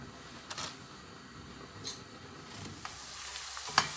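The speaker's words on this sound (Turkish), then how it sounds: "Soğanım kavruldu arkadaşlar." Onion frying in a pan with a soft, even sizzle, broken by a few quiet scrapes and taps of a utensil and a sharp clink near the end.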